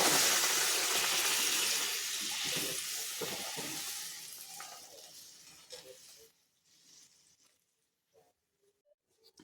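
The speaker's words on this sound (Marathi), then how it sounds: "आता आपण हळूहळू यात गरम पाणी सोडून द्यायचं आहे" Water pours with a loud rushing hiss into a hot pan, fading after several seconds into near silence with faint clinks.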